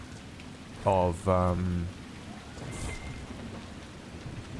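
Rain falls on the Storm Coast in Dragon Age: Inquisition, a steady moderate patter and hiss that runs throughout, briefly overlapped by a voice near the start.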